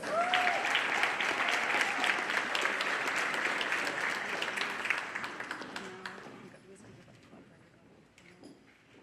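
A graduation audience for an 8th grade ceremony claps in a sustained, dense burst that gradually thins and fades toward the end, with a few voices mixed into the crowd.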